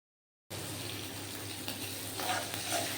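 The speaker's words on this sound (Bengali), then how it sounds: "একটুখানি আমি এই তেলের মধ্যে আলুটাকে একটু ভেজে নিচ্ছি" Potatoes frying in oil left over from frying rohu fish: a steady, close, loud sizzle that starts abruptly after a short silence and swells slightly toward the end.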